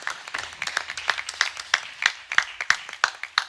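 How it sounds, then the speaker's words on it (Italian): An audience at a live music event at Magazzino Musicale Merula claps and applauds, a brisk run of sharp, fairly close claps that rise and fall without any talk. "quindi applausone anche per voi ragazzi"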